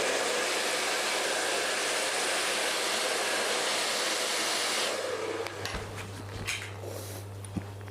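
A blow dryer runs steadily at close range while hair is being curled with a ceramic brush, a continuous airy roar that cuts out around five seconds, leaving brief handling noises.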